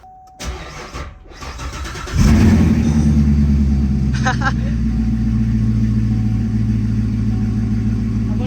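A rebuilt Corvette's engine cranks and catches, then rises into a loud, steady running roar that holds for several seconds, with a brief higher whir midway.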